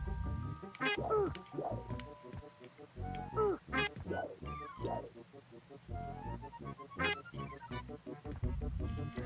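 Duck quacking in the SNES game Aaahh!!! Real Monsters, repeated squawking calls in short bursts mixed with game sounds, with a voice talking in between.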